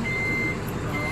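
A reversing truck sounds its warning beeper, a steady high electronic tone carried over low engine rumble and outdoor noise, close and continuous.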